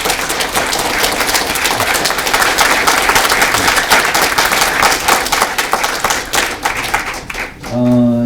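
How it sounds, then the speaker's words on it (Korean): A seated audience at a medical clinic presentation claps loudly and steadily to welcome a patient who had surgery for one-sided arm paralysis, a dense burst of applause that runs for several seconds before a voice briefly cuts in at the end. "한번 여러분들 박수로 크게 격려 좀 해주세요."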